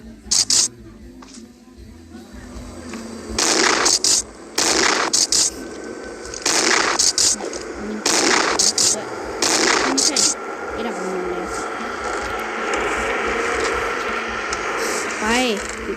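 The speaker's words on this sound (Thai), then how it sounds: "ปืนลูกซองก็กดค้างเหมือนเดิม ปืนลูกซองเกมนี้ สามารถยิงไกลได้" Shotgun blasts from a video game ring out as sharp, loud reports in an irregular series, with speech underneath between shots.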